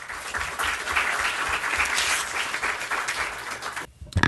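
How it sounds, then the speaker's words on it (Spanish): A seminar audience gives loud, dense applause to welcome a speaker at a public administration forum. The clapping holds steady for several seconds, then stops abruptly, and a short noise follows. "Juan Carlos Cortés, a quien le damos la más cordial bienvenida con un fuerte aplauso."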